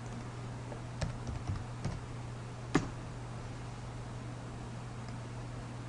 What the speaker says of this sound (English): we'll type in the mesh command